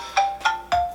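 A telephone ringtone plays three short repeated tones, loud and close, each with a bright synthetic pitch.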